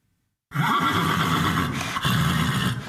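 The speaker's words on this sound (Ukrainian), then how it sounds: "Кобила Бері чекає, коли її виведуть на прогулянку." A loud, close whinny from a mare bursting out after a moment of silence and carrying on for a couple of seconds.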